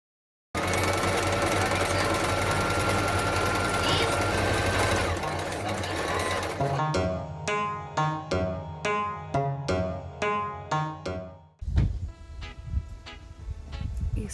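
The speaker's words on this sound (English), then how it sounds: "So my mum bought me my sewing machine, which I'm currently using." A basic home sewing machine runs in a fast continuous whir, then slows into a series of distinct rhythmic needle stitches with mechanical clicks, close and clear, with no talk.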